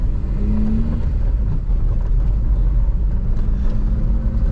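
VW Saveiro pickup with a 1.8 alcohol engine rolling slowly past, a loud, close low engine rumble with a steady drone and a brief rising tone near the start, no talking.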